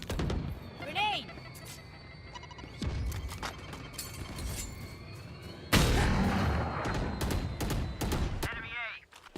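A grenade goes off in Valorant amid rapid gunfire, landing as a loud sudden blast partway through. Shots crack around it, and voices talk over the action.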